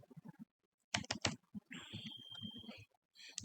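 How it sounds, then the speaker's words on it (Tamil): Typing on a keyboard to enter Bajaj Auto into the Money Control stock app: a few bursts of quick clicking keystrokes, close and moderately loud, separated by short pauses, with a faint tonal whine in the middle stretch. "இங்கே போயிட்டு நான் பஜாஜ் ஆட்டோன்னு டைப் பண்ணுறேன்"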